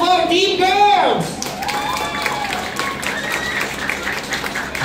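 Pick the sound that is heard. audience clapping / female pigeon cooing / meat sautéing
audience clapping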